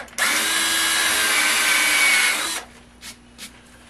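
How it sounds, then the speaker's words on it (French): A power drill fitted with a bit runs loud and steady for about two and a half seconds in a lathe workshop setup, then stops, followed by a couple of faint clicks. "Je vais utiliser une mèche"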